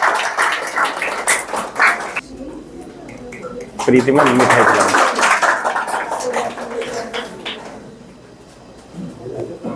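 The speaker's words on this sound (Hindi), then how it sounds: "जोरदार तालियां।" Clapping from students and staff welcoming a teacher at a coaching institute in Palwal, scattered bursts of hand claps coming and going under nearby talking voices.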